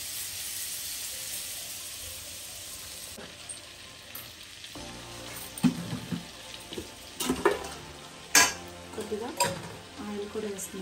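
Butter melts and sizzles in a hot kadai, starting as a steady hiss and turning into sharper crackles and spatters as it heats, with a few clinks from a utensil.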